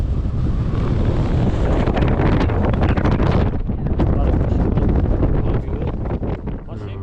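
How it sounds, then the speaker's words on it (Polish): Strong gusts buffet the microphone on a high Tatra mountain ridge in October, a loud roaring rush that swells and dips, easing slightly toward the end. "W międzyczasie wiatr zmógł się po raz kolejny."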